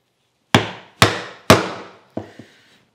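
A chisel struck by a mallet chops a hand-cut mortise in wood: three sharp, evenly spaced blows at close range, then two lighter taps, with no talking.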